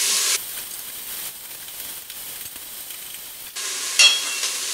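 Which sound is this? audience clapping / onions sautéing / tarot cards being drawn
onions sautéing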